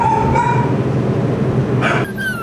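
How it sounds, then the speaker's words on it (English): Several dogs whine and bark in the kennels on the deck of a ferry, a steady loud mix of yelps and whimpers over the constant rumble of the ship. "Quite a few dogs on board, and the noise in the kennels is quite something."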